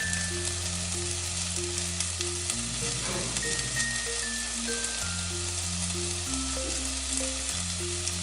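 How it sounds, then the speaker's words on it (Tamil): Tomatoes sautéing in a pan for Meen Kulambu, a Tamil fish curry: a steady close sizzle and crackle of frying runs throughout, with a sustained music bed playing over it and no talk. "தக்காளி போட்டு நல்லா கொஞ்சம் வதங்கிட்டோங்க"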